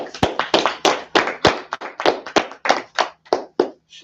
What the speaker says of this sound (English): So let's go and clap it up.